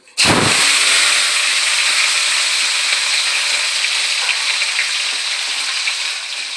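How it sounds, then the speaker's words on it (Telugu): Green chillies drop into hot oil with a sudden loud burst, then settle into a strong, continuous sizzle that slowly eases over several seconds. "ఆయిల్ వేడెక్కిందండి. ఇప్పుడు పచ్చిమిర్చి వేసుకుందాం."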